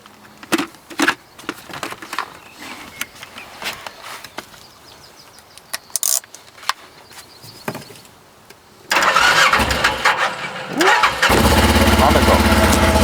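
A side-by-side SSV, either a Segway Villain or a CFMoto, starts up after some handling noises and voices, then its engine runs loud and steady right up close, nearly drowning out the people talking nearby.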